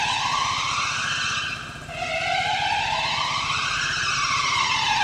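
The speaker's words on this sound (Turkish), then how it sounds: "İnsan ne kadar çok çoğaldıkça sokakta ambulans sesleri de çoğalmaya başlıyor." Ambulance and police sirens wail on a busy Brussels street, two overlapping rising-and-falling tones sweeping steadily over a low traffic rumble, fairly close and loud, dipping briefly before resuming.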